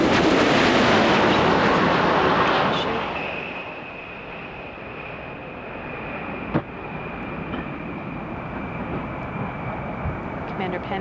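Space Shuttle Discovery touching down on the runway with its main gear during the STS-120 landing, a loud, broad roar and rumble that fades to a steady hiss with a single sharp thump partway through.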